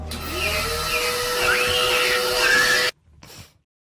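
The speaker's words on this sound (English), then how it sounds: "Look, it's a vacuum." Vacuum cleaner running, a steady loud whirring motor drone that stops abruptly, followed by a brief muffled rustle and then silence.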